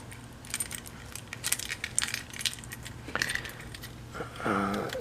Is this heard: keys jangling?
yes